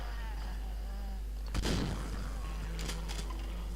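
A single sharp gunshot in a video game bursts out midway through, with a short echoing tail and a couple of faint later cracks over a constant low hum.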